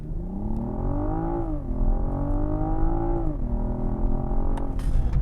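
A BMW M440i xDrive accelerating hard, its engine note rising loud and close through successive pulls with shifts between gears, and a brief sharp knock near the end.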